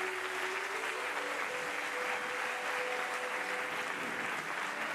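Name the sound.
applause in church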